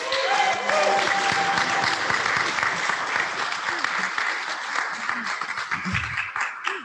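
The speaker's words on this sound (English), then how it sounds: "Can we give them a round of applause?" Sustained audience applause at a sculpture fundraiser, dense and steady clapping from a sizable crowd, with a few voices and cheers mixed in before it begins to thin toward the end.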